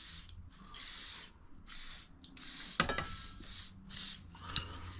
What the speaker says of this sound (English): I'm just going to give it a shot of WD-40.